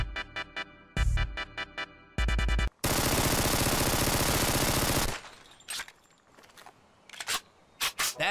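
Uzi submachine gun from Call of Duty firing in loud rapid bursts: several short volleys, then one long sustained stretch of automatic fire, trailing into scattered clicks and shorter bursts.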